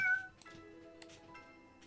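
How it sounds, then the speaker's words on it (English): A cat on the far side of a wall, heard through a protruding pipe, gives one clear meow at the start, then faint tonal mewing trails off quietly. "There seems to be a cat on the other side."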